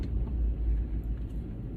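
A Ford F150 bi-fuel CNG pickup truck drives on a test run, producing a low, steady rumble of engine and road noise heard from inside, fairly quiet with no talk.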